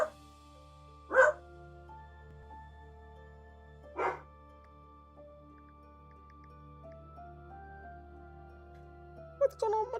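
Dogs bark indoors at home in a few short, separate bursts at a moderate distance, set against a steady low electronic hum.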